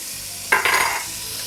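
Chopped onions and garlic hit a hot pan for a Tuscan peasant soup and are stirred. A sudden close burst of sizzling swells, then settles into a softer hiss.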